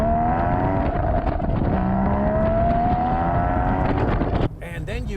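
A Porsche Boxster Spyder's mid-mounted engine revs hard, its rising harmonic note climbing steadily under wind buffeting before abruptly dropping off near the end, heard close from inside the car.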